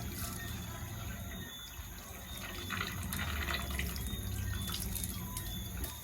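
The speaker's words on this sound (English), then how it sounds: "Wash quick and fast, you know." Wild bird meat is rinsed under a running tap, giving a steady stream of water with splashing and dripping that grows busier partway through, heard close at moderate loudness.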